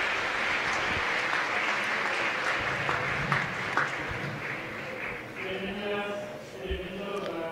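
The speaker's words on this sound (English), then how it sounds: "Let's give them a big applause again." A large audience at a Lasallian education congress claps continuously, a broad wash of applause with faint voices and murmurs underneath, easing slightly toward the end.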